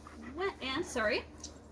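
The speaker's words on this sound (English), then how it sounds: "Please ignore our Pyrenees dog if you happen to get into the film here." A Great Pyrenees dog on a lamb farm lets out several close, wavering whines and yelps in quick succession, rising and falling in pitch.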